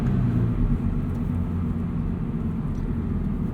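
A Subaru BRZ fitted with a catted UEL header and stock exhaust pulls hard in second gear from around 3,000 RPM, giving a deep, steady low rumble heard from inside the car with no talk.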